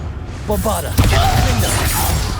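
Sudden blasting spell explosion in the video game Hogwarts Legacy, a loud broadband thump around the midpoint, following a spoken voice and trailing into game noise with further voices.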